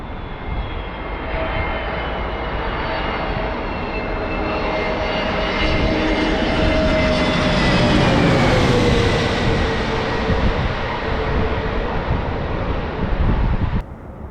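A Frontier airliner arriving at San Diego airport, its jet engine roar swelling steadily and peaking around the midpoint with a falling whine as it passes close by, then easing off, with wind rumble on the microphone.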